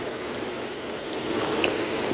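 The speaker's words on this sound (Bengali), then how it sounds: "এখনো পর্যন্ত বৃষ্টি থামেনি, এখনো পড়তেছে।" Steady rain pours onto a flat rooftop where water has pooled after falling nonstop since the previous afternoon, a dense, even hiss that swells slightly louder toward the end with no talking.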